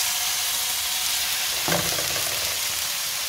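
A thin-cut steak sizzles and fries loudly in a hot oiled pan, with steady broadband crackle throughout and a brief burst of sharper spitting about halfway through.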